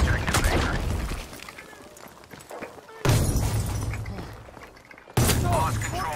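Grenade explosions in the Battlefield V shooter video game, three sudden loud bursts with heavy low rumble, each decaying into crackling debris and combat noise, and a voice briefly heard among them.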